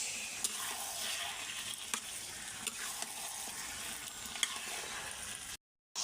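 Potatoes frying in a pan give off a constant soft sizzle with occasional small pops and crackles, quiet and even, cutting out near the end.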